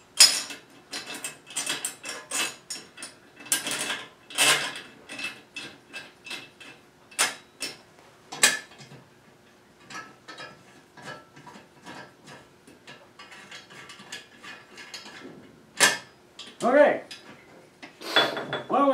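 Metal clanks, ticks and rattles as the guard on a Farmertec Holzfforma Alaskan sawmill is flipped and handled, a series of sharp close knocks and scrapes with brief gaps and a few louder bangs near the end.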